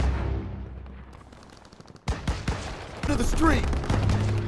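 Gunfire in Call of Duty WWII during a July 1944 battle in Marigny, France: a few sharp shots crack after a quiet stretch, then dense, rapid bursts mixed with shouting voices.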